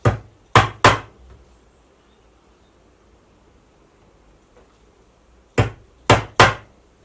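Upholstery tacks hammered into webbing: two quick groups of three sharp, loud hammer blows separated by a long quiet gap, with no talking.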